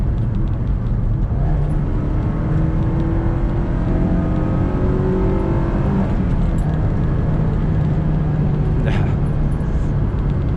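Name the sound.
Honda S2000 sports car accelerating hard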